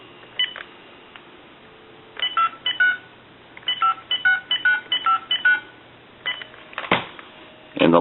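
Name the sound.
dialing a number on Kellogg wooden wall telephone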